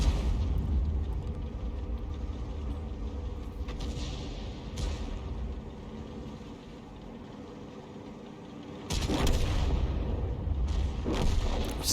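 The M53/M55 self-propelled artillery in a tank video game fires and lands a hit, booming low rumbles with a heavy blast rolling in near the end over steady engine drone.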